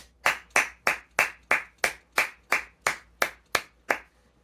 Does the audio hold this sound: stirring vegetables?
no